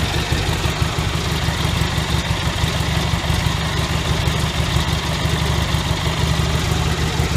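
A Cub Cadet 1806 lawn tractor engine idles steadily nearby, a rough, continuous low rumble with a slightly uneven pulsing throb and no talk over it.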